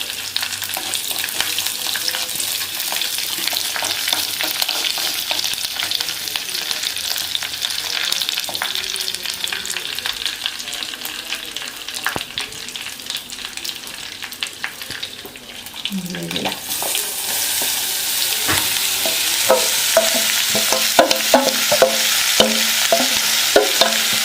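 Dried shrimp and dried red chillies fry in a pan with a continuous crackling sizzle and occasional stirring scrapes, the frying growing louder and brighter toward the end.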